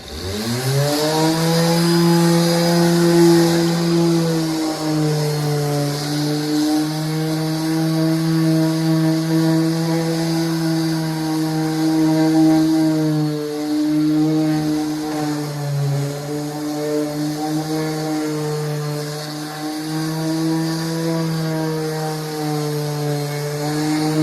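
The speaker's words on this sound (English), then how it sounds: "I'm going to try to sand some of this stuff down" Power sander grinding sticky residue off material in a basement, a loud close steady motor whine with strong humming tones that dips and shifts in pitch as pressure changes, running continuously without talk.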